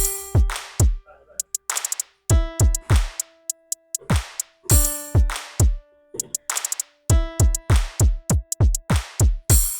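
Deep booming 808 kicks in FL Studio hit repeatedly in a steady beat, mixed with crisp claps and snaps, loud and up close with no talking.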